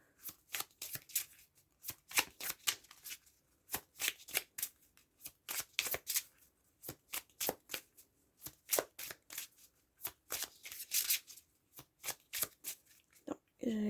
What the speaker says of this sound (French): Je vais quand même vous mélanger les cartes pour vous donner un aperçu des types de tirages que ça donne.